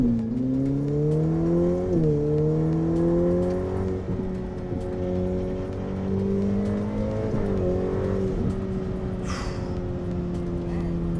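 A Ferrari F8 Tributo V8 supercar pulls hard, its engine note climbing with a brief dip at each gear change, a smooth, loud, sustained roar heard from inside the cabin.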